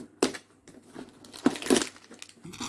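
Cardboard advent calendar doors are pried open by hand, giving several sharp tearing cracks and crinkles at close range, separated by short pauses and soft rustling.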